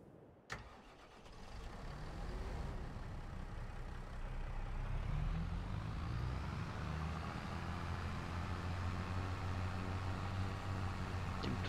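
A tractor engine in Farming Simulator 22 cranks with a sharp click, catches, then settles into a steady mid-pitched idle that slowly deepens and stays even for about ten seconds.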